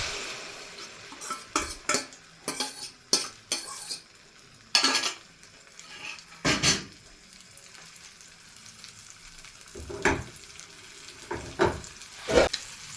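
An omelette fries in a pan with a low sizzle, broken by repeated sharp clinks and scrapes of a utensil against the pan, fairly close.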